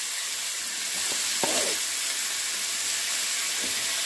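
Peas and poha frying together in a pan give a steady sizzle, with a few brief scraping stirs, one sharper clack standing out in the middle.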